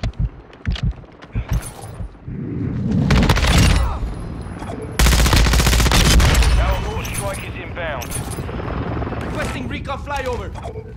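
Rapid bursts of automatic gunfire and booms fill a Call of Duty: Modern Warfare II firefight, with a helicopter drone underneath and voices shouting over the loud, dense battle.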